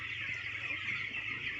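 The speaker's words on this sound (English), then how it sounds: "try to scare the rest of those chicks up" A flock of thousands of young chicks being herded to pasture, a dense, continuous chorus of high peeping, steady and fairly faint with no talk.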